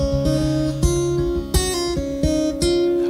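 An LTD TL6 electric guitar heard through studio monitors, playing a short run of clean strummed chords and ringing notes with several sharp attacks over about three seconds, clear and close with no voice.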